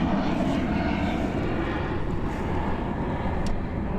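An airplane takes off and climbs steeply out of a foggy Christchurch Airport, its engine roar a steady broadband rumble that stays loud and constant throughout, with some wind buffeting on the microphone.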